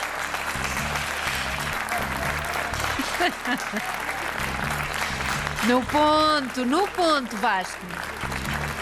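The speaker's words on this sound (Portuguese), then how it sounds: "Obrigado pelo aplauso." Studio audience applause fills a Portuguese television quiz show, a continuous close wash of clapping that runs under a host speaking and a woman answering.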